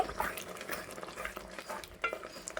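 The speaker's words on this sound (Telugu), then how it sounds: "మొత్తం ఒకసారి ఇలా కలుపుకోవాలి." A spoon works through gongura egg curry in a pan, giving soft wet churning and occasional light scrapes against the metal in a continuous low stir, close and quiet with no speech.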